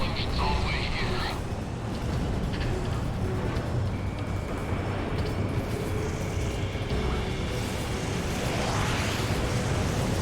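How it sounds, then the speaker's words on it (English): Explosions in the combat flight game Ace Combat 6: Fires of Liberation, dense rumbling blasts layered over jet engine roar and radio chatter, continuous and loud throughout with voices speaking over the din. "Target down. Explosions all the way here."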